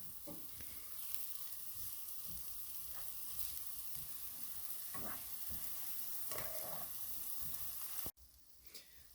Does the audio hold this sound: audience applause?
no